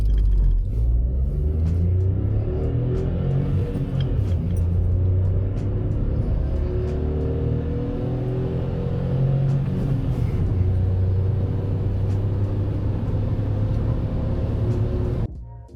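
A 2013 Volkswagen Up city car accelerates hard from 0 to 100, heard from inside the cabin. The engine drones loudly and steadily, its pitch climbing through the gears over a constant road rumble.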